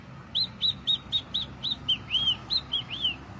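A whistled imitation of a great kiskadee call, a rapid run of about a dozen high, thin chirping notes, fairly close, with no voices.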